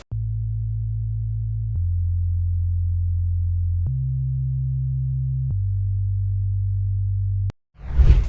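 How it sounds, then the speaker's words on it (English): A pure, steady synthesized sine-wave sub-bass tone holds a low pitch, stepping between a few notes in sustained segments, with a brief noisy burst at the very end. "It's a simple sine wave from Silent 1."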